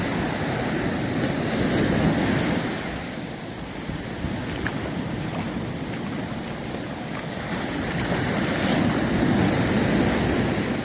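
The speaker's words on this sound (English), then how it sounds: "Just at the water's edge, waves are just getting you every now and again" Surf breaks and rushes over sand at the shoreline of a Caribbean beach in Juan Dolio, Dominican Republic, loud and close, swelling, dipping in the middle and building again, with light wind noise and no talking.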